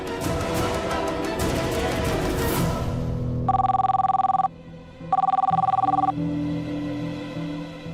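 A telephone rings in two electronic bursts separated by a pause, following a stretch of busy background noise.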